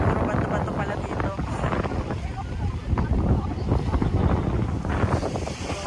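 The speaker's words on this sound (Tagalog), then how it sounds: "ang lakas ng hangin" Strong wind buffets the microphone at a rocky outdoor spot in Canada, with a constant loud roaring rumble and gusty surges throughout.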